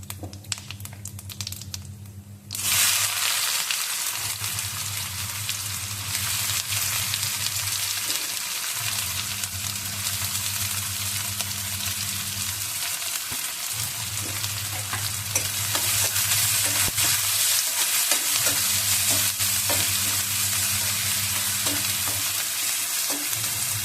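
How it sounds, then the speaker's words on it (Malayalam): Onions sizzling in hot oil with cumin seeds in a pan as paneer bhujia is cooked, a steady loud frying hiss broken by repeated stirring scrapes, no talk. "ഇനി നമുക്കതിലോട്ട് സവാള ഇടാം"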